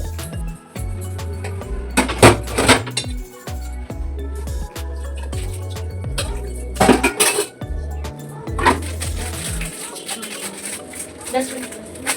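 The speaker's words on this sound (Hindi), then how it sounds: "सिंक में अब जितने भी बर्तन निकले हैं मैं इनको कर दूंगी फटाफट से क्लीन।" Dishes and cutlery clatter and clink in a kitchen sink as they are washed, with bursts of loud knocks and scrapes between quieter moments, while a voice talks over parts of it.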